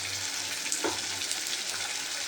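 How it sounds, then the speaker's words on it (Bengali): Spice masala for mutton curry sizzles in oil as it is stirred, a faint, steady hiss with one brief scrape, no voices. "এবার সমস্ত মশলাটা ভালো করে কষিয়ে নেব।"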